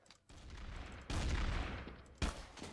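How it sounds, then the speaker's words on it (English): Bursts of gunfire in Trouble in Terrorist Town: a rapid volley breaks out, falls back, then erupts again louder and denser before one last sharp burst, fairly close. "Why was all the shooting?"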